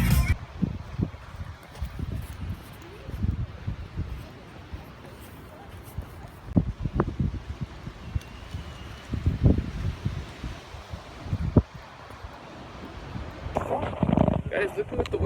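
Strong wind gusts across a school grounds, buffeting the microphone with rumbling, uneven bursts of noise. People talk and shout excitedly throughout.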